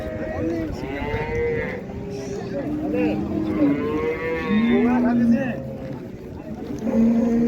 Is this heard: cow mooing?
yes